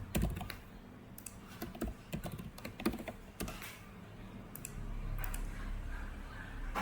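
Typing a username and password on a computer keyboard, a steady run of close, crisp key clicks in irregular bursts with no talking.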